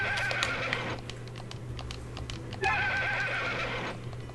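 A horse in Story of Seasons: A Wonderful Life gives two loud whinnies over a steady clip-clop of hooves and a low hum, with no talking.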